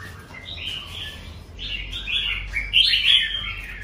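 A caged red-whiskered bulbul gives a series of bright chirps and warbling calls, close and moderately loud, rising in intensity toward the end over a low background rumble, with no talking.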